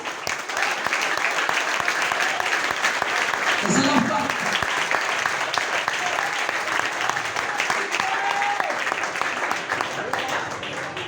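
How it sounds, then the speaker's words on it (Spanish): A church congregation at an evangelical preaching service applauds the King, sustained dense clapping throughout at a steady, loud level, with a voice and cheers briefly rising over it. "Ese aplauso al Rey"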